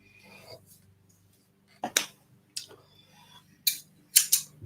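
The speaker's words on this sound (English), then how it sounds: "These are very, very long scissors." A pair of very long scissors is handled and snipped, giving sharp, crisp metallic cuts in a few clustered bursts, close up, with quieter shuffling between them.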